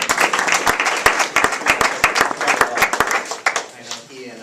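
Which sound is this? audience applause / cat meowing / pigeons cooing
audience applause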